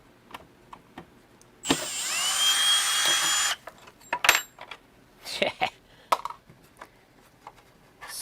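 A power drill spins out screws from the backbox of a Straight Flush electromechanical pinball machine during a rebuild: one loud whirring burst lasting about two seconds, followed by scattered metallic clinks, taps and handling clatter.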